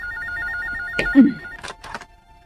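A telephone rings with a repeated electronic bell tone in a domestic drama scene, steady and moderately loud, joined by sharp knocks and handling noises partway through.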